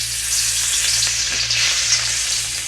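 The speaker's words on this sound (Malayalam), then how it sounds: "അപ്പോൾ എണ്ണ നന്നായിട്ട് ഹോട്ടായിട്ടുണ്ട്. നമുക്കിനി ഇതിലോട്ട് നമ്മുടെ ചെമ്മീൻ പറക്കി ഇട്ട് കൊടുക്കാം." Prawns fry in hot coconut oil with a loud, continuous hissing sizzle and faint crackles, close up and steady with no talking.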